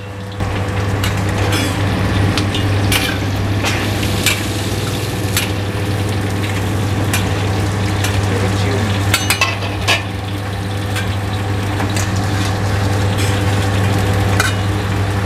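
Karaage chicken frying in hot oil as the pieces are lifted out, a steady loud sizzle and bubbling with a constant low hum and scattered clinks, with no talk.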